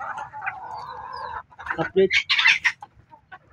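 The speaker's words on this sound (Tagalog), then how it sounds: "pakita ko yung mga manok." Native chickens on a small farm clucking and calling in several close, bright bursts after a stretch of steady voiced sound, with a person speaking briefly at the start.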